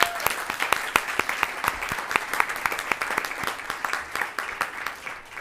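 A school board meeting audience in Anaheim breaks into applause: dense, lively clapping from a crowded room that holds steady, then tapers slightly near the end, with no talking over it.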